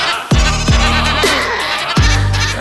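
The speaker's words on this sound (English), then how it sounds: "Here's a screaming goat." A goat screams in loud, close, strained bleats, three sharp cries in quick succession with brief gaps between them.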